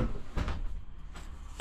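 A bedroom door in a travel trailer opens and closes, with a few soft knocks and scuffs followed by a sharper thump at the end, heard up close with no talking.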